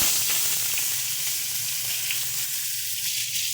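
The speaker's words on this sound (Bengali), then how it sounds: "মাথাটাকে আমরা হালকা করে একটু ভেজে নিচ্ছি, বেশি কড়া করে ভাজবে না।" Hilsa fish head, rubbed with salt and turmeric, frying lightly in hot oil, giving a steady, close, even sizzle with soft crackles throughout and no voices.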